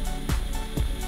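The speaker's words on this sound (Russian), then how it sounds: "Сверло диаметром 3 мм в легкую просверливает пластик." A small homemade mini drill built around a Soviet DPR motor bores into plastic with a 3 mm bit, giving a steady close whine broken by two short grinding bursts.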